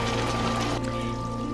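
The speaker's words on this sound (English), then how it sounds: "we're going to add a bit more water and let it continue to cook" Water pours steadily into a pot of simmering Caribbean stew oxtail, a loud, continuous gushing that eases off partway through, alone without speech.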